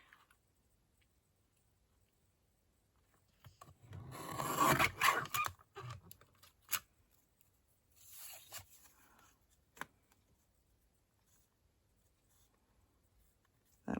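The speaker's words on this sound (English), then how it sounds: "Oh, I use my trimmer." A paper trimmer slices straight across a sheet of paper for a craft page, giving a short rasping run of cutting followed by a few quieter scrapes and clicks in an otherwise quiet room.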